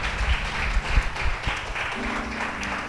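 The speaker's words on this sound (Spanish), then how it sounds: "Pueden juntar sus manos y aplaudirle al Rey maravilloso." A church congregation claps together in praise during a Spanish-language service, a loose wash of applause that rises, dips and carries on steadily through the whole stretch with no voices on top.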